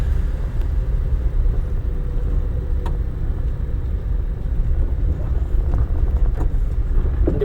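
A car rolling along in second gear during a driving lesson, its engine a low steady rumble close by inside the cabin, with faint road noise and occasional small clicks, no speech.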